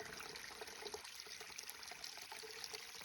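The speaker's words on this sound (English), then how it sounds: "there's a spring, a piped spring here. Makes getting water really easy." Water trickles steadily from a piped mountain spring on the Appalachian Trail near Glastonbury Mountain, a close, quiet, continuous splashing stream with no talking.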